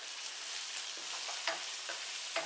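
Chopped small tomato sautés in a pan for a potato varuval, a soft, steady sizzle with a few faint stirring scrapes, fairly quiet and without talk.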